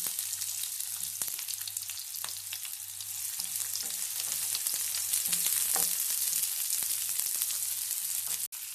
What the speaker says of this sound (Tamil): எண்ணெய் காஞ்சதும் அதில் பொடியாக கட் பண்ண பெரிய வெங்காயம் 1 சேர்த்து நல்லா வதக்கிக்கலாம்.